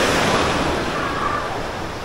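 Gentle ocean waves at Padang-Padang beach in Bali wash in a steady, even surf hiss with no sharp breaks, filling the air without any voices.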